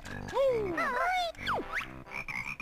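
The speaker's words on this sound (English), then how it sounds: "Oh, wait, no, that's not a bee, that's a frog." A frog croaks in Banjo-Kazooie, played on the Project 64 emulator, giving a few bright, warbling, pitch-bending game calls up close, with background game music running underneath.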